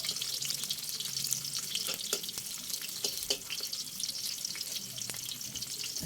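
Onion sizzling in a pan while cooking pinakbet at home, a steady soft crackle with scattered pops and light clinks of stirring, fairly quiet and close.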